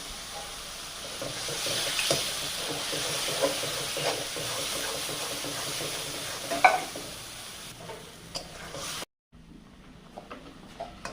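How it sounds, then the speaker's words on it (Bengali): Tengra fish seasoned with salt, chili powder, cumin and turmeric fries in a pan, with a continuous close sizzle, occasional stirring knocks, and a brief cut near the end before quieter frying resumes. "ভালো করে ভেজে নেব।"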